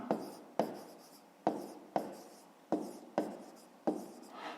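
Pen or pencil writing a math solution on paper, close and quiet: a series of about eight distinct scratchy strokes, each starting with a sharp tap and fading, in an uneven rhythm.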